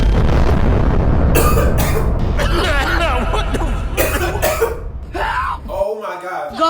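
A woman chokes on her own saliva and breaks into a loud, close coughing fit of several harsh bursts and throat-clearing hacks, with frantic talking between the coughs.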